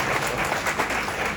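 A studio audience on a Hindi TV show bursts into brief, dense, steady clapping, close and lively throughout.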